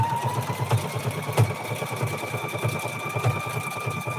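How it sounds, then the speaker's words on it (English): Sewing machine stitching along the center fold of a denim quilt made from jeans, a steady mechanical whir with rhythmic needle pulses running continuously at close range, no voices. "And then you're just going to start stitching."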